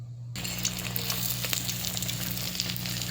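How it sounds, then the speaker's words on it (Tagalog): Milkfish (bangus) frying in hot oil in a home kitchen, a steady close sizzle and crackle that starts abruptly and continues alone without talk. "luto na ang ating pritong isda"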